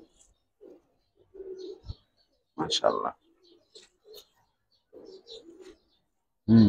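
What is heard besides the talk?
pigeons cooing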